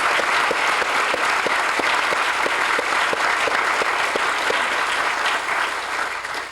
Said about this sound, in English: I would like publicly to give him also a round of applause